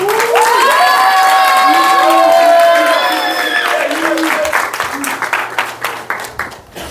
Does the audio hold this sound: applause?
yes